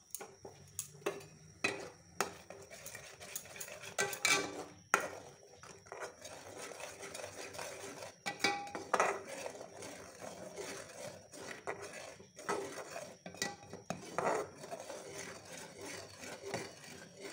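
A spoon scrapes and stirs thickening kheer made with milk powder and sugar in a pan, giving irregular rubbing and scraping strokes with occasional louder knocks against the pan, close and without talk.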